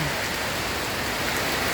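Steady heavy typhoon rain pours down continuously, a dense broadband hiss with gusty wind mixed in, close and loud throughout.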